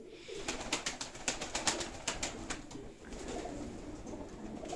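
Pigeons coo softly and repeatedly at close range, with a flurry of sharp rustling and flapping in the first half before settling into steady cooing.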